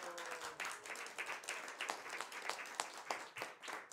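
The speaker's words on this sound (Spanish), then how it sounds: "A mi amigo Miguel Ángel Carti, por favor, un gran aplauso." An audience at a Christmas event in a museum hall claps steadily for several seconds, a dense patter of many hands heard from some distance and fairly quiet.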